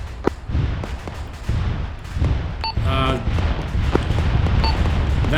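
Rocket run explosions in Arma 3 arrive as a string of deep booms and rumbling blasts, dense and continuous, with a voice briefly talking over the barrage.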